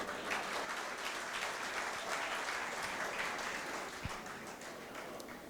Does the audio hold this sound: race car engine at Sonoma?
no